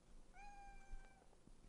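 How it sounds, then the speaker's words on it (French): A cat meows from a shoebox indoors, giving one drawn-out, clear meow at close range with a faint second call after it, against a quiet room. "Le chat qui m'appelle."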